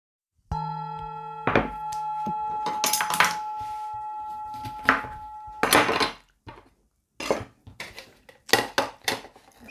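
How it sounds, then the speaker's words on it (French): A knife slicing a quince and cutting it into pieces on a board: irregular clunks and cutting strokes, some ringing briefly like dishware, then a quick burst of chops toward the end. "Je le coupe en tranches, puis en morceaux."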